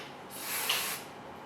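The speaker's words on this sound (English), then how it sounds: "And then I just go from the root here, spray a little bit" A short burst of hair spray from an aerosol can, a close, steady hiss lasting about half a second.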